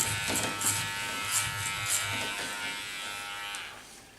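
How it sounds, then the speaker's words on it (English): A Keone cordless electric hair clipper buzzes steadily while cutting a doll's hair, its motor whine rising slightly with each pass through the hair and then trailing off near the end. "this Keone clipper is wonderful for the job"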